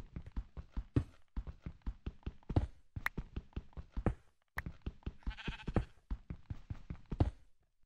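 Repeated bleats from a Minecraft sheep in the video game, short rhythmic calls following one another closely, fairly loud and alone with no talking.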